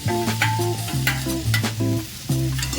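Fried okra is tipped into a pan of sizzling lentil tempering with turmeric and stirred. A spoon scrapes loudly and rhythmically over a steady sizzle, close up.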